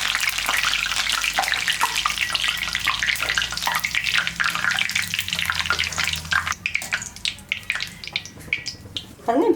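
Curry leaves crackle and sizzle in hot oil in a Tamil kitchen where chilli 65 is being made from snake gourd, with busy popping and splattering throughout and a few clinks near the end.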